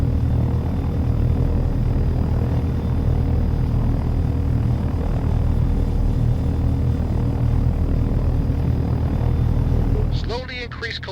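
A helicopter's engine and rotor drone steadily and loudly near at hand as the collective is slowly raised for a vertical takeoff, with a brief burst of speech over the noise near the end.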